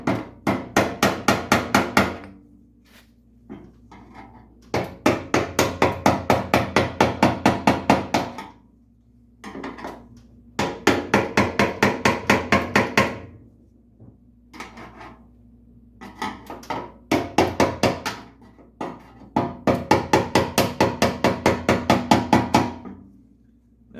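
Hammer taps metal tabs into place on a fuel tank while restoring a 1951 Chevy, coming as rapid bursts of sharp, ringing metallic strikes separated by short pauses, loud and close, with no talking.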